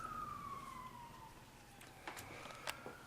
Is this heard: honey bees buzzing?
no